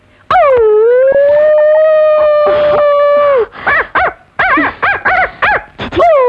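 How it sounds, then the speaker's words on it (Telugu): A loud, long drawn-out howl rises and holds, then breaks into a rapid series of short yipping howls, like jackals calling close by. "అయితే నక్కలు కూడా మురుగుతాయి"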